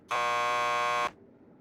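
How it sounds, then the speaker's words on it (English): Door buzzer in the video game Max Payne 2, a single steady electric buzz lasting about a second, loud and close, then cutting off cleanly into a quiet room. "Just press the buzzer by the door."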